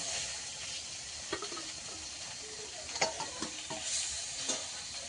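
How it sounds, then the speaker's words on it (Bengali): Fish fry in a kadai over a clay stove, making a low, steady sizzle with scattered stirring taps and scrapes nearby and no voices. "আর কিছুটা দিয়ে দেবো বাকি যে মাছগুলো আছে কড়াইতে এখন ভাজার জন্য"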